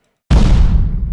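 Classic Halo 2 and Halo 3 explosion effect, a single sudden loud boom with a rumbling tail, heard alone.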